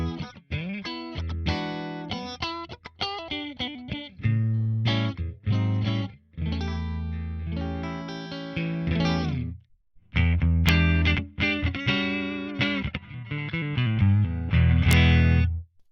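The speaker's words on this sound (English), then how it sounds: "now here's that Fender Deluxe Reverb that I said I liked and I wanted to use" An electric guitar plays chords and single-note phrases through a Fender Deluxe Reverb amp model with light drive, strummed in bursts with brief pauses, no talking.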